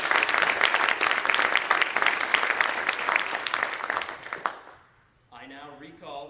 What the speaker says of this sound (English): Let's give our new Eagle Scout one last round of applause.